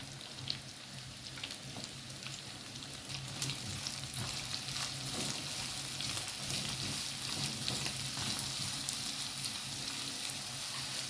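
Meat and onion frying in a pan for spiced basmati rice with nuts, a dense crackling sizzle that swells after a few seconds and holds steady, close up, with faint stirring taps and no voices.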